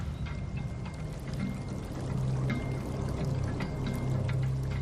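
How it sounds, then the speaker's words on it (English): Water pours steadily over a scale model of the Scablands, standing in for the failure of glacial Lake Missoula; a continuous, close rushing pour that grows slightly louder and fuller partway through, with no voices. "poured water over it to represent the failure of glacial Lake Missoula"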